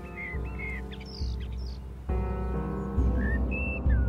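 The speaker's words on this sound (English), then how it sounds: "Let's listen to the birds sing, then." Birds sing in short whistled chirps and tweets, scattered across the clip over a low, steady background hum, with no one talking.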